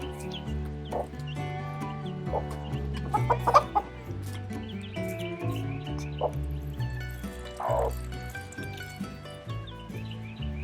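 Broody hen clucking softly among her chicks, repeated low clucks and scattered higher peeps over a steady background of other sounds, faint and close.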